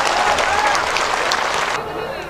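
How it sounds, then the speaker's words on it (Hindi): Audience applause welcoming a party spokesman introduced at an event, a loud continuous wash of clapping from a crowd, tapering slightly near the end, with a voice talking over it. "जोरदार ताली बजा के इनका स्वागत करिए।"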